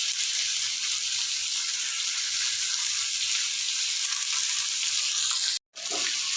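Potatoes and capsicum fry in a generous amount of oil, giving a steady, close sizzle. The hiss breaks off for a moment just before the end, then comes back.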